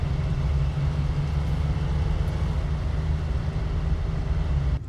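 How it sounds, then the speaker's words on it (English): Truck engine in the SnowRunner video game, a loud steady low drone with a constant hum throughout, alone with no talk. "Okay, we're gonna lower this noise of the engine a little bit."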